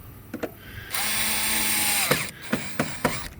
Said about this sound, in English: Let's put the screws back in this while we're at it.